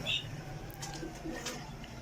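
A female pigeon coos low and soft in a few short murmurs against a steady background hum, with a brief higher chirp near the start.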